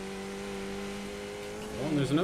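A race car engine in the iRacing sim holds a steady high drone at full throttle, then its pitch wavers and climbs near the end, with faint talk over it.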